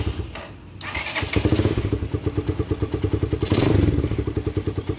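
A Vperman 150 motorcycle with one exhaust pipe removed idles and revs up close. Its exhaust throbs in a fast, even pulse and crackles sharply, with a rising swell near the end.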